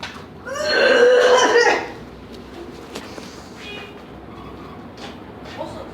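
A friend's loud sneeze, one sharp nasal burst with a voiced, whinny-like wail lasting over a second, followed by quiet room noise and faint movement.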